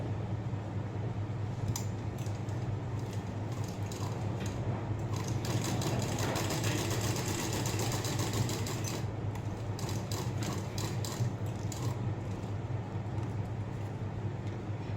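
A sewing machine runs a double line of stitching on a blouse with a steady, quiet, continuous mechanical whir and ticking, uninterrupted throughout.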